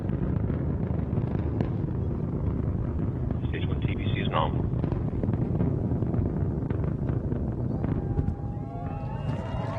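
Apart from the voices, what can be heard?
Antares rocket engines roaring during ascent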